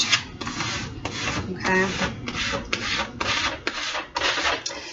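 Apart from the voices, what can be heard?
smoothing a vinyl wall decal onto a surface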